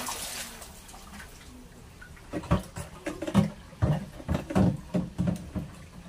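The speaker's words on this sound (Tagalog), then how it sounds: "lalagyan natin ng panibagong tubig" Water from a hose pours into the membrane housing of a water refilling station during cleaning, making irregular close splashing and pattering bursts that grow busier after a quiet start. No one speaks.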